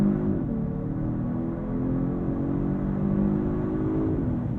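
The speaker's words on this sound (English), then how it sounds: "I'm not sure if and how much of that engine noise is being piped into the cabin" A 2022 Genesis G70 3.3T V6 Sport RWD pulls hard under acceleration, a steady low engine drone heard from inside the cabin with the pitch gradually rising, continuous and moderately loud with no talking.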